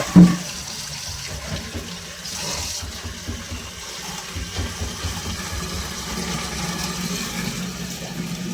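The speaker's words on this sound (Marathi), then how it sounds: "असं पाणी येते" Steady rushing of water flowing from a tap, continuous and fairly close, with a brief knock at the start and no voices.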